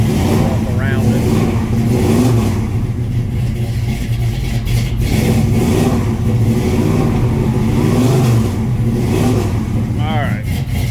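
A 1967 Chevrolet C10 engine runs rough on a cold start, revving and surging unevenly as it struggles to settle into an idle, with people talking over it.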